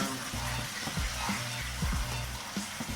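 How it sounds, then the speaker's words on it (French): Food searing in butter in a hot pan over raised heat gives a steady close sizzle, with a few short clinks of stirring and no talk. "nous allons tout de même augmenter le feu pour être sûr de pouvoir bien les saisir et leur donner une bonne couleur"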